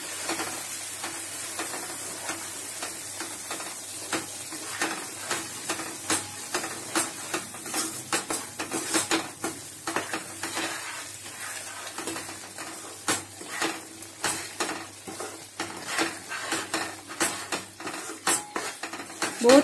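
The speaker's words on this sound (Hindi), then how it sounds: "धीरे धीरे चाशनी को इसमें डालते जाएं।" Moong dal halwa sizzles and fries in a pan while sugar syrup is slowly poured in and stirred, with a steady close sizzle and repeated scraping stirs throughout.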